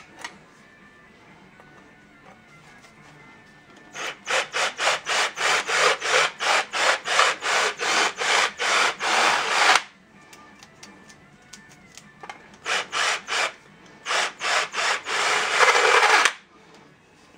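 A countersink grinds burrs off the backside of a freshly drilled metal ball joint part for a Datsun 521, a steady rasping scrape in two close bursts of rapid rhythmic strokes, loud and near with no talk.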